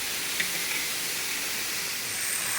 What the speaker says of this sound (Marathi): मोठ्या गॅसवर लोखंडी तव्यात आपला टोमॅटोने आणि छान परतून घेतलेला आहे